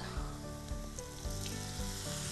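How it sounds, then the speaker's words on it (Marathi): Spices roast in hot oil for Bhopali paneer, giving a steady close sizzle with soft periodic stirring scrapes and no voices. "मसाल्यांना थोडंसं भाजून घेऊयात आणि जर तुमचं तेल सुकलेलं असेल जसं हे, तर आपण थोडंसं पाणी ॲड करूयात"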